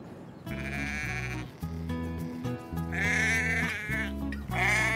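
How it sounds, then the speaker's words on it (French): Sheep on an Irish farm bleat loudly and repeatedly, several overlapping calls in quick succession, close by and with no talk over them. "il faut ramener les moutons à la ferme"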